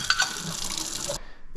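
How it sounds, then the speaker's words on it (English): Vinegar water poured out of a Breville Barista Express espresso machine part during descaling, a steady close splashing gush into a sink that cuts off abruptly near the end. "we want to pour out this water here. The vinegar water."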